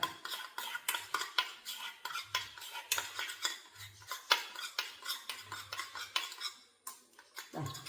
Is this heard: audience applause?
no